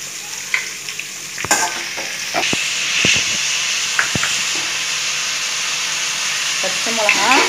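Curry leaves and onions sauté in a hot pan with a loud, continuous sizzle, broken by sharp clicks and scrapes of stirring.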